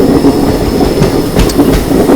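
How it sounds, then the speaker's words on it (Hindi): A Prayagraj–Dadri summer special train with ICF coaches rolls along the rails, a steady close rumble of wheels with faint clickety-clack beats and brief squeals as it picks up speed. "तो अपनी ट्रेन ने स्पीड अप होना शुरू कर दिया।"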